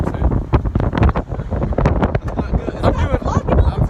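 Loud, buffeting wind roars against the microphone in continuous gusts while sitting in a truck, with a voice partly buried underneath.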